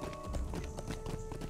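Horse hooves clip-clop steadily in Lord of the Rings Online, a hay-fed horse being led in a herding quest at Ödmoor, the rhythmic footfalls close and continuous over a busy game soundscape.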